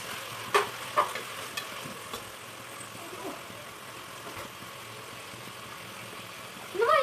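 A spoon scrapes and clatters against a pan as food fries and sizzles softly in a home kitchen, a few sharp clinks standing out over a low steady hiss, with a faint engine-like hum beneath.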